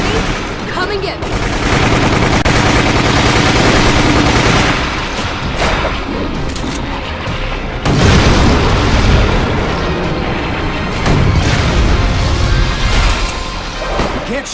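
Rapid bursts of gunfire and booming blasts from a fight against a tentacled Tyrant in Resident Evil, loud and sustained across the whole stretch, with a voice talking in places under the shooting.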